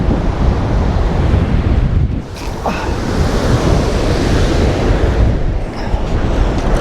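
Surf breaks on a North Wales beach under strong gusting wind, a loud continuous roar of waves with heavy wind buffeting the microphone and no voices.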